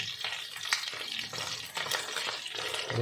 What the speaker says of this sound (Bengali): এবার মাছগুলো কিন্তু আমি উল্টে দেবো অপর সাইডও ভাজা করে নেবো আমি